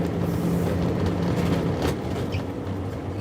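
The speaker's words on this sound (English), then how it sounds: "Y'all hear that shit? Motherfucking truck?" A heavy truck rumbles past nearby outdoors, a loud continuous low roar with broadband road noise that swells and then eases slightly as it goes by.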